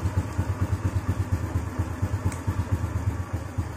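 An original Honda Astrea Grand motorcycle under restoration runs at idle, its small engine putting out a steady, rapid putter with a light mechanical clatter, close and fairly loud, with no voices.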